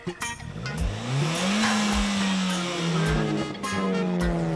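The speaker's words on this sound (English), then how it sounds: "one of my favorite things is the engine on this car." A Nissan RS car's 1.6 liter four-cylinder turbo engine with factory upgraded internals, revving loud and close, its pitch climbing and holding through gear changes, with tire noise as it pulls away.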